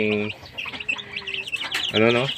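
Pet chicks peeping in quick, high, short chirps, close by, with a person talking briefly at the start and end.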